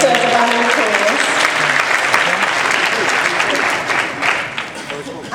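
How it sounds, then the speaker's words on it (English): Audience applause at a speaker introduction on stage, loud continuous clapping from a crowd with a voice briefly audible beneath it at the start, tapering slightly toward the end. "Definitely deserves a round of applause."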